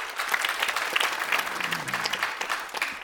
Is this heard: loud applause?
yes